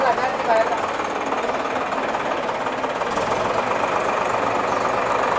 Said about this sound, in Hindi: तो इस प्रकार से गोबर ट्रैक्टर से जो है वो निकाल दिया जाता है।